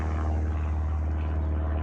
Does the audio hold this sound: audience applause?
no